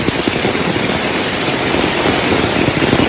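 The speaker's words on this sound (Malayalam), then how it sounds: "ഭയങ്കര മഴ കേട്ടോ ഭയങ്കര മഴ എന്ന് പറഞ്ഞാൽ ഭയങ്കര മഴ" Heavy, pouring rain falls in a forest as a loud, steady, dense hiss that fills the whole stretch without a break.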